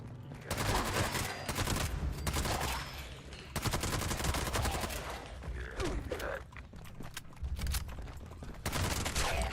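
Automatic gunfire from a full magazine being emptied in the video game Fallout 76, a dense, sustained barrage of shots that continues at high intensity for several seconds with brief pauses.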